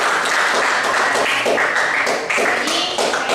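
A classroom of students applauds presenters, a brisk, fairly close patter of many hands clapping continuously with a few louder individual claps.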